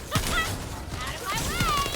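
Rapid gunfire in The First Descendant crackles in several sharp bursts, mixed with a voice speaking and busy combat noise.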